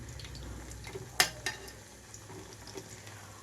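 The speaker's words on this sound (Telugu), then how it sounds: "ఆయిల్ ఎక్కువగాను డీప్ ఫ్రైకి తగినట్లుగా వేయకుండా కొంచెమే వేసుకోవచ్చు" Sweet corn pakodi fry in a shallow pan with only a little oil, a steady low sizzle broken by a couple of sharp clinks from a utensil, with nobody speaking.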